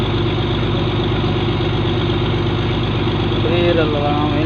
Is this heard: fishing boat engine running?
yes